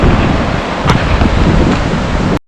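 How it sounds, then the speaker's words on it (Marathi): Forceful river water rushes in a loud, unbroken roar, close and dense, with wind buffeting the microphone throughout before cutting off at the end. "पाण्याचा काय फोर्स आहे यार"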